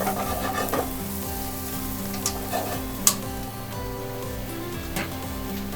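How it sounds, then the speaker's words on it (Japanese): Napolitan ketchup spaghetti stir-fries in a frying pan with a continuous sizzle while the pan is tossed and stirred. A few sharp clicks and taps break through, and a low steady hum runs underneath. No one speaks. "こんな感じでこう炒めてもらって"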